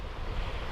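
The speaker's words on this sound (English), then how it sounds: "So the noise you can hear is the river at St Savin" The fast-flowing river at St Savin gives a short burst of steady broadband rushing water, close and fairly loud, with no voices.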